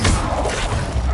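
Accio spell cast in Hogwarts Legacy on PS5, a short burst of magical whoosh and crash-like impact, loud and dense, with no talking.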